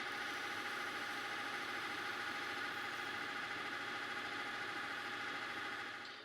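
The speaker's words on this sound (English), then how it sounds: "The lathe is trying to cut it smaller, but because this is unsupported, it's deflecting away and cutting it a little bigger." A lathe runs steadily while cutting an unsupported workpiece that deflects away from the tool. The machining noise is a continuous, fairly loud whir held throughout at an even level, with no talk.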